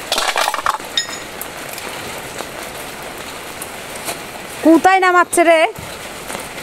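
Steady rain patters on surfaces at an outdoor fish market, a continuous hiss of falling drops with a few faint clinks, while a voice speaks loudly near the end.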